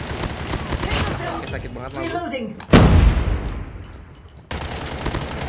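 Rapid SMG gunfire in a shooter video game, close and loud, with stretches of fast shots broken by a heavy boom and a short lull before the rattle resumes, while someone talks over it.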